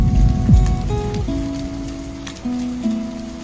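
Steady rain falls outdoors beside a stopped car, a continuous soft hiss spread over a low sustained musical drone, with no voices.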